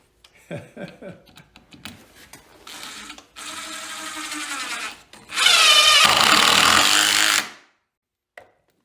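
A power drill spins a screw into wood through a Crescent Vortex bit holder, with two sustained whirring runs, the second louder and longer, following a few short clicks and handling noises.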